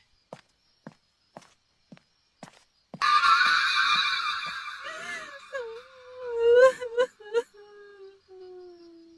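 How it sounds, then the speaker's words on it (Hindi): A few slow, isolated footsteps, then a sudden loud, broken crying sound effect for a Hindi jungle horror story: a wavering, wailing cry that rises, catches and trails off into a drawn-out moan. "कहीं पास से रोने की आवाज आई, धीमी, टूटी हुई"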